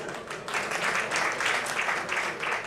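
Audience applause at a live stage event with singers, steady dense clapping that swells and holds for a few seconds, filling the hall.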